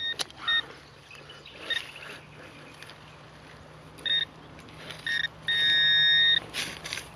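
A Garrett Pro-Pointer metal detector pinpointer gives short faint beeps, then a longer steady tone near the end, over quiet outdoor background noise.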